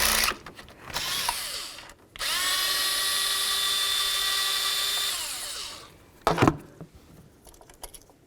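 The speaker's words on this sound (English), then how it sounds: "We'll continue on to removing our mounting bolt." A power tool whirs on the ignition coil mounting bolt of a 2007-2017 Ford Expedition, with a short burst, then a steady high whine for about three seconds that winds down, and a brief clatter after, close and loud.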